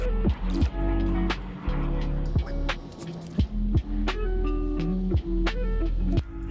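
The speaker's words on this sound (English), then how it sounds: "So now we're going to have Riley hit it with an air compressor" An air compressor blasts air into a broken pool skimmer line, producing irregular gurgling, bubbling bursts and hollow knocks that come close and loud.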